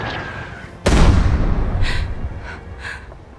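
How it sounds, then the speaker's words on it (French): A single loud American artillery blast booms close by, its heavy rumble decaying slowly, while a few faint gasping voices break through afterward. "C'est l'artillerie américaine."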